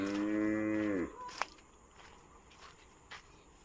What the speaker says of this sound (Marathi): वासरू ओरडतंय